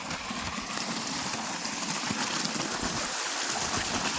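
Water flowing from a running pump motor out in the countryside makes a steady, even rushing and trickling wash throughout, with no talking.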